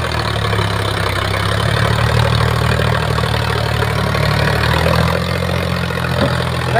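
An Eicher 551 or Sonalika DI 50 tractor engine idles close by with a loud, steady low diesel chug that stays constant throughout, with no talking.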